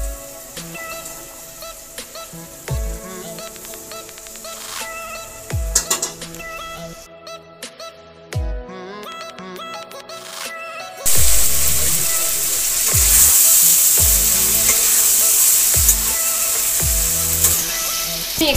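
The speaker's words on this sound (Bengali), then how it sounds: "তো আমার সেদ্ধ করা ঘুগনিটা এবার আমি এখানে ঢেলে দেব।" Boiled ghugni, Bengali style, poured into a hot pan over potatoes and stirred: scattered clatters and knocks give way to a loud, steady sizzle that fills the second half.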